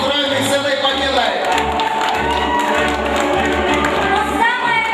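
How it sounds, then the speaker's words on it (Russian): A hall audience applauding a winning couple at a couple-of-the-year contest, dense sustained clapping with cheers, while a presenter's voice carries over the crowd. "Марат и Анастасия, друзья, громкими аплодисментами поздравим их с этой победой!"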